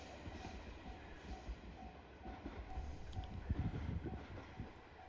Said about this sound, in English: the Etosetora train is a tourist train that runs between Hiroshima and Onomichi,